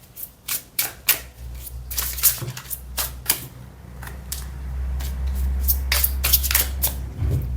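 A deck of tarot cards is shuffled close up. A run of crisp, separate card slaps gives way to a steady riffling rush, loud and near, with no voice.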